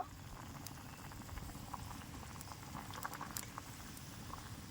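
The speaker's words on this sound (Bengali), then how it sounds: "মাছটা আমার সিদ্ধ হয়ে গেছে, এবার মাছটা আমি তুলে নেব" Salted hilsa fish simmers in a pot of water, giving a faint, steady bubbling and light pattering boil heard quietly on its own.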